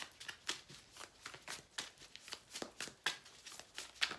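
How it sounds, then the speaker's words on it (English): Tarot cards being shuffled by hand in repeated quick riffles and slaps, a steady rhythm of crisp papery bursts close to the mic, with no talking. "I will be shuffling out the cards"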